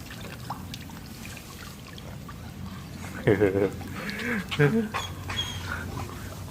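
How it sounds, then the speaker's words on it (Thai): A German shepherd splashes and paddles in water, with irregular sloshing and dripping that grows busier midway, while people talk throughout. "อันนี้ใช่ลูกหมาตกน้ำหรือเปล่า"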